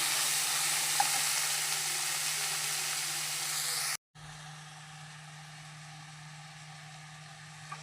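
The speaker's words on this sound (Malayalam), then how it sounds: "നമുക്ക് നല്ലപോലെ ഒന്ന് വഴറ്റി എടുക്കാം" Tomatoes sautéing with onion in a pan for a prawn curry, a steady, even sizzle that cuts out briefly and resumes softer, with a constant low hum underneath.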